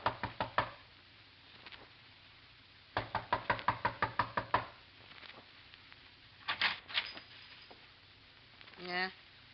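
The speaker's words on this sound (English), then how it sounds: "A knock." Knocks on a door, played as a sound effect in a classic radio mystery drama: several quick bursts of sharp raps separated by pauses, close and crisp, with a brief voice near the end.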